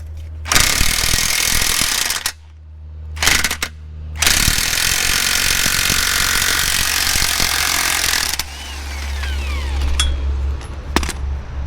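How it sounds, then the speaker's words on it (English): Tools work on a Honda CBR 600 motorcycle as its chain and sprocket come off, with a loud sustained grinding roar broken by short pauses, then ratcheting and metallic clanks over a droning hum. "Let's go ahead and pop this chain and sprocket off."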